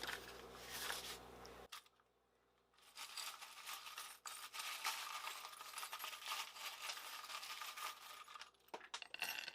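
Small charms being picked up and let fall, giving light metallic clinks and rattles, close and fairly quiet, with a short pause early on before more scattered tinkling.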